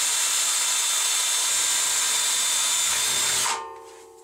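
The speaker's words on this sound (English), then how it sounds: "Anytime you're drilling aluminum, of course, you want to be cautious." A power drill bores into a rounded aluminum header during a heavy Euro 3/8-inch sliding shower door install, whining loud and steady for over three seconds before winding down as the bit stops.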